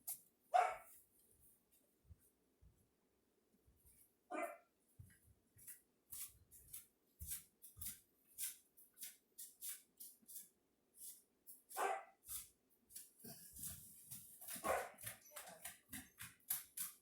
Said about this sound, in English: Let me let this barking puppy in.